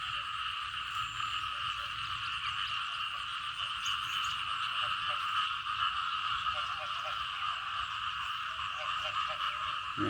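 Post-rain frog chorus, many frogs and small frogs croaking together in a loud unbroken shimmer, with scattered nearer croaks standing out and a soft low rumble underneath.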